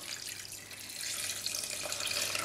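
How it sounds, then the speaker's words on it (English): Dissolved gelatine jelly is poured from a container over a sherry trifle in a home kitchen, giving a steady, soft liquid splash and trickle close by that runs for a couple of seconds without a break. "I'm just gonna pour this on now."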